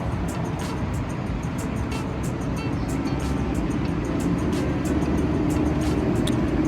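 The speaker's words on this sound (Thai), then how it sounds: "เสียงเร่งนี่รู้เลยนะ เป็นอัสตอมแน่นอนนะครับ" An Alsthom diesel locomotive hauling a fuel tanker train accelerates through a rail yard near Chatuchak station, a continuous heavy engine rumble that stays loud and even, with broad hiss above it.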